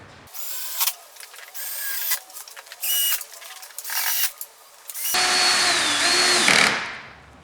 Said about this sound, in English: adjust the settings on your drill down to like 1 or 2, and it'll stop the drill process